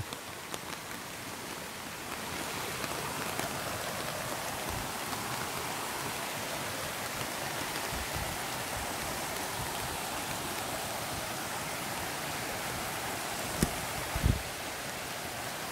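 Water rushing in a mountain stream beside a waterfall, a dense steady broadband roar filling the whole stretch, close and even, with a couple of brief knocks near the end and no talk.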